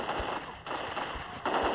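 Gunfire in the mobile shooter Crisis Action, a few dull thumping shots over a steady loud game background hum, spaced roughly half a second apart.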